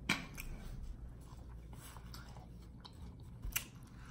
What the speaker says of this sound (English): When your cheeks start hurting from chewing.